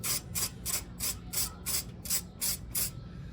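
A 1/4 inch drive ratchet clicks on a 12 mm bolt on a Honda GL1500 Goldwing rear air suspension: nine rapid, evenly spaced bursts of crisp ratcheting close up, alone with no talk.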